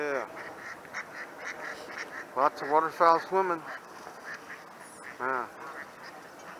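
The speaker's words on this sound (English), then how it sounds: "lots of waterfowl swimming." Ducks and geese call nearby, a series of loud nasal quacks and honks in quick bursts with a few scattered later calls, over outdoor background and a brief spoken word.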